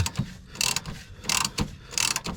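Hand ratchet tightening the track rod end on a Vauxhall Omega Elite, clicking in three quick bursts with pauses between them, each burst a sharp rapid rattle close to the microphone.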